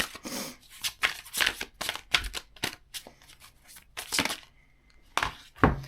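Tarot cards shuffled by hand in bursts of crisp riffling and slapping, close and moderately loud, with brief pauses between handfuls and no talking.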